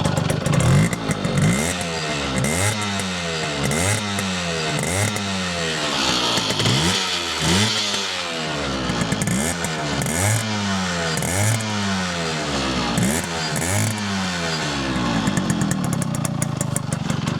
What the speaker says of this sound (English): Really nice smooth engine. It's a nice revvy little thing as well.